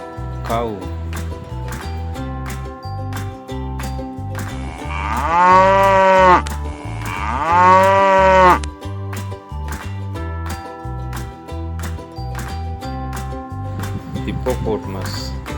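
A cow moos twice in long, loud, drawn-out calls over a steady rhythmic musical backing, with a thin animal call heard near the start.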